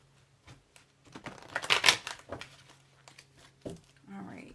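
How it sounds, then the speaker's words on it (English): A deck of tarot cards is shuffled by hand, producing papery riffling and crinkling bursts that peak midway and then give way to softer handling noises. "So let me give these a good shuffle."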